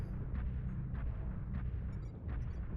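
Airstrike explosions in MechWarrior Online land as a run of four or five heavy booming blasts spaced about half a second apart, each a dull thud with a brief crackling burst over a low rumbling bed.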